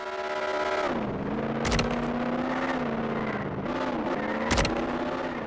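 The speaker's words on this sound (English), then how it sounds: "the Revox has a brand new custom engine sound." A custom car engine from the Roblox game Jailbreak, the Revox, drones steadily at a high pitch with two sharp rev bursts and pitch dips, looped and arcade-like, with no voices.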